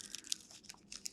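A strip of crepe paper being concertina folded, giving soft crinkling and rustling with a few sharper crackles, close and quiet.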